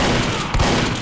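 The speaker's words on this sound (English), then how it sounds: "someone was shooting at me" Rapid burst of gunfire in the shooter game Team Fortress 2, a loud, dense spatter of shots for about a second with no talk.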